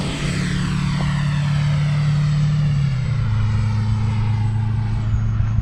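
A radio-controlled Fly Fans L-39 Black Diamond model jet flies past with a loud, steady engine drone. Its pitch drops slightly around the midpoint, and no one speaks.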